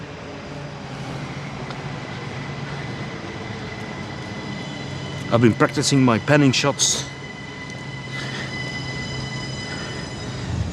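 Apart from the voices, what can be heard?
train arriving at a train station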